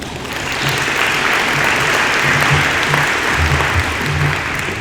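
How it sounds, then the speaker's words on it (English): Audience applause at an evening college conference in a high school venue, steady dense clapping that fills the room for several seconds at a constant level, with a low murmur of voices underneath. "Please give applause for Dr."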